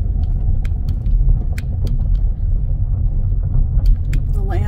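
A car drives slowly out of a wooded property near Bean Station, its low engine rumble and road noise steady throughout while a person talks over it.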